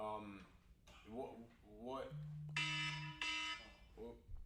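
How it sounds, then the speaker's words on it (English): A phone alarm goes off mid-conversation, a loud steady tone with bright harmonics sounding in two bursts, one long and one shorter, while a person talks before and after it. "this is my phone alarm going off"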